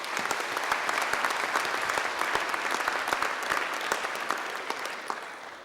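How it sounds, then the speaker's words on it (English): Applause from a graduation ceremony audience fills the hall, a dense, steady wash of many hands clapping at even loudness throughout, with no talk over it. "you can applaud yourself again for your great success"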